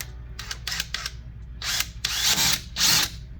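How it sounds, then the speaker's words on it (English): A power drill drives screws into plywood in short bursts that build into longer, louder whirring runs, close by and with no talking. "go through and drive all your screws"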